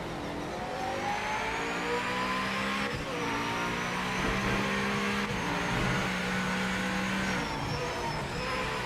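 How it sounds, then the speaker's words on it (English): A race car engine in a racing sim drones loudly and continuously, its pitch rising and falling through gear changes, with faint tyre squeal and no talk. "I hear way too much good sounding engine right now"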